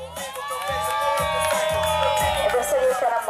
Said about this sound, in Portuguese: Pessoal, uma salva de palmas a ele.